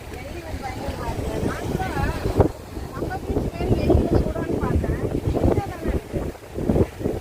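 Steady wind buffets the microphone outdoors at Vembar Beach, with people talking over the gusty rumble throughout.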